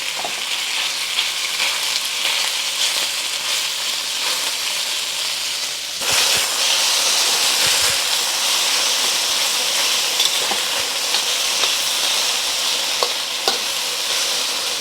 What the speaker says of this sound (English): as soon as it's hot, add 2 tablespoons of vegetable oil. And we're gonna get half of the beef going